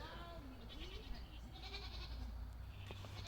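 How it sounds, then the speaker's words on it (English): Goats and sheep bleat in short, wavering calls while a farmer feeds them, the cries rising and overlapping against steady low background noise, with faint talk also present. "just the farmer feeding her sheep and goats"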